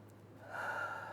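A single breath drawn in during a tapping meditation, a soft airy inhale that swells and holds for about a second, close and quiet with no speech.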